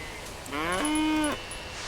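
A single clear, drawn-out moo from a cow in the farming video game Coral Island, lasting under a second and rising in pitch, heard alone over quiet game ambience.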